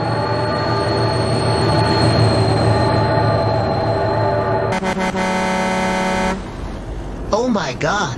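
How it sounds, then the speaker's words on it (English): A train in the BeamNG.drive driving game rumbles past with squealing wheels and a horn blast, loud and close, then cuts to excited shouting over game sounds. "Oh my god, train!"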